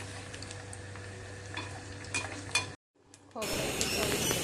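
Diwali snacks for a makai poha chivda fry in hot oil with a constant close sizzle and stirring clinks against the pan, broken by a brief silent cut before the frying resumes louder.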